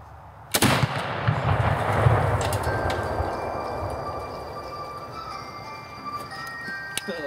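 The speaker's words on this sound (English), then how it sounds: "Retake, really big boom." A rifle shot sets off an exploding target outdoors, one sharp loud crack and deep boom followed by a long rumbling decay that trails off over several seconds, with a few faint later clicks.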